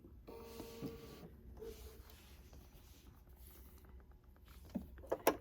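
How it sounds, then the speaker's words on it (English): A sewing machine back stitches on a quilt spool block, a quiet rapid whir of the needle in a short burst, then near silence broken by a few small clicks and taps at the end. "And now I'm back stitching, trim those threads"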